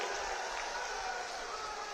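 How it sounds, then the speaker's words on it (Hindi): Crowd clapping at a political election rally in Lakhisarai, Bihar, a steady wash of applause from a large outdoor gathering, moderately loud and continuous without pause. "जोर से ताली बजाइए जरा"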